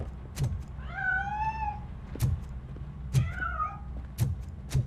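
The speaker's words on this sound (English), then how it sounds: "That cat must be hiding inside." A cat meows twice in the video game RoboCop: Rogue City, drawn-out wavering cries rising and falling, over a low steady hum with sharp clicks scattered between.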